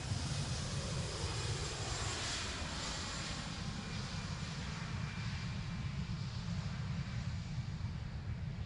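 An airliner rolls for takeoff on runway 23 left at Manchester Airport, its engines a loud, steady, broadband roar that holds evenly throughout with no voices.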